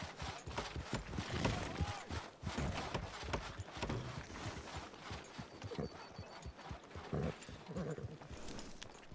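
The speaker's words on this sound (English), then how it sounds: "I hear a horse somewhere." Hoofbeats of a horse being ridden nearby in a Western-themed video game, a brisk continuous clip-clop at moderate volume with a faint distant pop or two, mostly free of talk.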